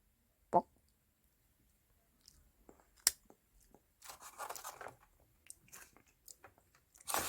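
Someone eating dipped food at close range: a sharp crunch, then soft bursts of chewing and mouth noises, with a louder bite at the end and no talking.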